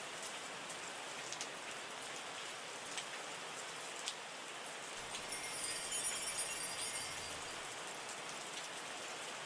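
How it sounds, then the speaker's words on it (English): Steady rain falls in the wine-making tycoon simulation game Terroir, a soft continuous patter of raindrops with occasional slightly louder drips, faint and alone without any speech. "And more stupid rain is not good."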